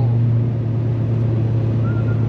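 A Honda Civic EG5 fitted with an Integra Type R engine, prepared by a rally driver, heard close up as a steady, loud engine drone with a strong low hum and no clear rise in revs.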